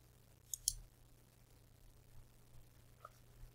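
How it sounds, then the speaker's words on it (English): A computer mouse gives a quick pair of faint clicks on a Save Changes button, followed by one softer click later, in an otherwise quiet room. "you can just go over here and click on Save Changes"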